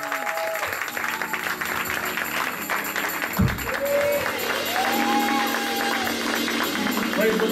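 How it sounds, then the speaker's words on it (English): A church audience applauds its pastor with a steady, dense wash of clapping and crowd noise. Sustained tones ring faintly beneath it, and the applause holds throughout. "So please, just give a round of applause for the father of the house,"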